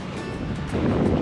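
Ocean surf breaks steadily on a Guam beach, a loud, continuous rushing wash with wind buffeting the microphone and no voices.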